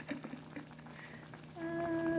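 Instant noodles with chicken simmer in a pot, giving a soft bubbling patter that grows into a steady, louder boil with a rising tonal hiss near the end.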